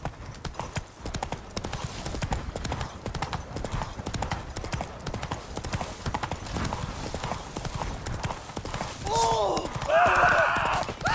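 Roach the horse gallops in The Witcher 3 with steady, rhythmic clip-clop hoofbeats throughout, a brief whinny near the end, and voices talking over it.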